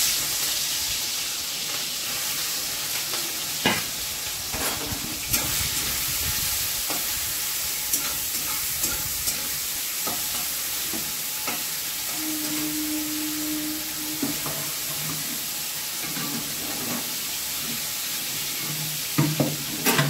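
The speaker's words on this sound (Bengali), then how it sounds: "যখন ভাজা হচ্ছে কুমড়ো ডাঁটা দিয়ে তরকারি হবে।" Pumpkin stems frying with shrimp rubbed in turmeric and salt: a constant hissing sizzle in the pan, broken by occasional stirring knocks and a brief low hum, with no speech.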